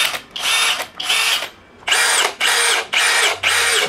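A Dongcheng DCJZ03-13EM hammer drill runs in six loud, harsh bursts of roughly half a second each with short pauses between, close up and with no talking.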